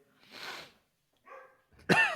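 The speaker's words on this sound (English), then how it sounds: "My dog started barking simultaneously." A dog barks nearby, a short loud burst of sharp barks near the end, after softer scattered noises.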